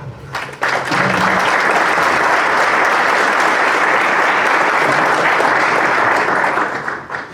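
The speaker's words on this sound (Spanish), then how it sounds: "les pido un voto de aplauso" Audience at a Peruvian panel event breaking into loud, sustained applause, dense clapping that rises quickly and holds for several seconds before tapering off.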